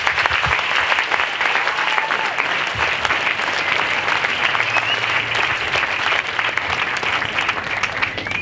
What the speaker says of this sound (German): Ich denke, das ist schon mal den ersten Applaus wert.